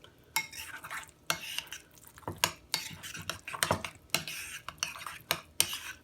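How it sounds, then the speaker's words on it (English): Guacamole with lime, salt and pepper being stirred in a bowl, a quick rhythm of wet mashing and utensil scrapes and clicks against the bowl repeating about every half second, close and fairly quiet. "It's good to mix this for, I don't know, 20 seconds or so, because you want the juice from the lime, and especially the salt and the pepper"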